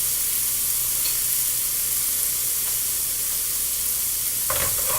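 Garlic sizzles steadily in a hot pan, a dense, even frying hiss throughout, with a brief stir or scrape near the end.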